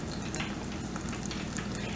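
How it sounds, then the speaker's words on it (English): Beer battered onion rings fry in hot oil, giving a dense, even sizzle with fine crackling pops that carries steadily and up close, with no talking over it. "So I'm just gonna finish frying these."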